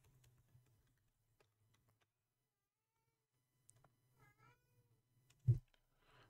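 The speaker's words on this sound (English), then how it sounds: "if you might hear him meowing at me" A pet cat meows a few times in a quiet home, short faint cries partway through, amid soft keyboard typing and scattered ticks, with one louder thump near the end.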